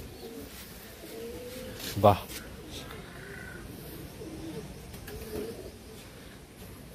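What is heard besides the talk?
Madrasi pigeons cooing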